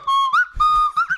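Slide whistle played in a comedy podcast bit, a bright whistling tone sliding up and down in pitch across two long glides with short swooping bursts between, loud and close with no voices.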